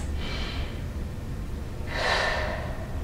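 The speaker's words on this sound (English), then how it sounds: "Let's take a couple of breaths." Two deep breaths during a seated chair workout, a long airy inhale followed by a stronger, louder exhale, close to the microphone with no talking.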